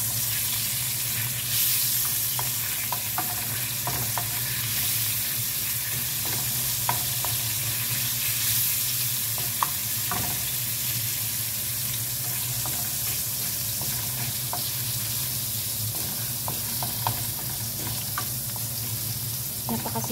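Garlic fries in a pan with a loud, steady sizzle through the whole stretch, broken by scattered clicks and scrapes as it is stirred.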